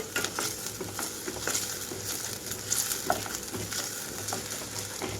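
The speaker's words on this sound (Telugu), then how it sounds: "ఉల్లిపాయలతో పాటు అల్లం వెల్లుల్లి కూడా చక్కగా వేగిపోవాలి" Onions with ginger garlic paste frying in a pan, a steady close sizzle with soft patter and occasional stirring scrapes, fairly quiet, no talk.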